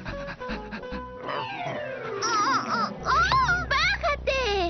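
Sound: cartoon dog panting and greeting excitedly

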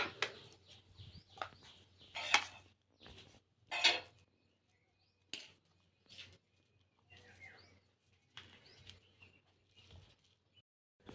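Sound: grating raw mango

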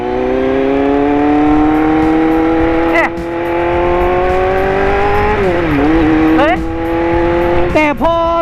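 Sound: Kawasaki Z800 motorcycle ridden fast

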